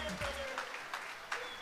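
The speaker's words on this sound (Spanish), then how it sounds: "ponerle su aplauso que él se lo merece" Audience applause at a Telemicro party show: a steady clapping wash from the crowd, with a voice over the top and a few louder swells near the end.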